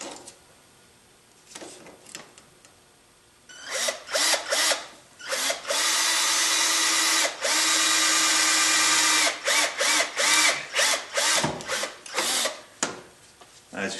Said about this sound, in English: Let's drill a new hole.